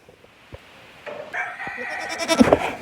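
Goats bleat on a busy farm, where a rooster is also kept. After a quiet opening with a few small knocks, loud overlapping bleats rise close by near the end.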